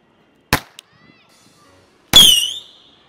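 A loaded toy gun for Diwali fires two sharp bursts: a short crack, then a louder, longer crackling blast with a ringing, squealing tail that fades, with near silence between the shots.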